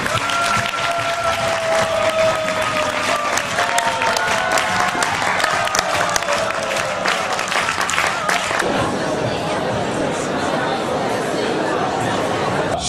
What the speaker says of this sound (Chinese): 现在掌声欢迎一下徐老师，因为徐老师就是一个品牌形象非常好的人。